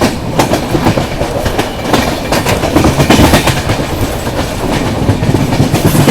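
A Duronto Express train runs through monsoon country near Karwar, its wheels beating a loud, close clickety-clack rhythm over the rails along with constant rumbling, and no one speaks.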